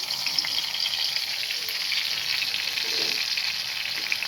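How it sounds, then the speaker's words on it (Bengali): Oil hisses into a cleared spot in the middle of a pot of cooked jute greens, giving a steady, bright, close sizzle that holds evenly with no talking. "এখন যে পাতিলে শাক করেছি ওখানে মধ্যখানে খালি করে এখানে আমি তেল দিয়ে দিচ্ছি।"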